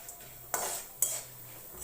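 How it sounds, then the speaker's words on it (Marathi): Lentils dry-roasting in a pan are stirred with a metal spoon, giving two sharp scraping clanks against the pan over near-quiet surroundings. "पहिलं हे भाजून घेते डाळी वगैरे. जरा डाळ खरपूस अशी"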